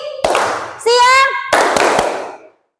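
A class claps hands twice in a rhythm game, two sharp group claps spaced about a second apart, with a short voiced call sounding between them.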